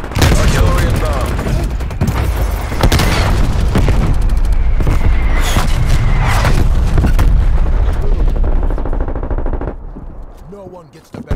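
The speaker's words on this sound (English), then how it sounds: "Artillery inbound." Rapid gunfire and heavy booming artillery explosions from a Call of Duty: Black Ops Cold War match, loud and continuous for most of the span before cutting out, with a voice briefly heard near the end.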